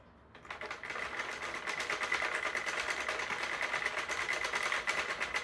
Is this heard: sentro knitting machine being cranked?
yes